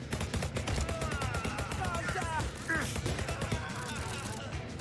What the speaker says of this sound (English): And now we have our Uzi guns